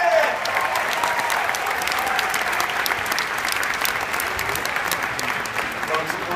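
A large outdoor crowd applauds stunt performer Corey Abbott at Disney's Hollywood Studios Lights, Motors, Action! show, a loud dense clapping that stays steady across the whole stretch, with an announcer's voice briefly over it at the start.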